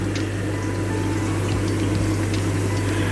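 Tap water runs steadily into an aquarium tank used for breeding Aulonocranus dewindti cichlids, a constant hum and rushing, bubbling flow at close range, unbroken for the whole stretch.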